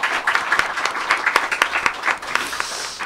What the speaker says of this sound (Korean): 박수로 격려해 주시기 바랍니다